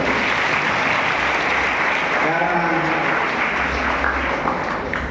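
Audience at a talk on Lingayat religion breaking into loud, dense, sustained applause that fills the whole stretch without pause, with no clear talk over it.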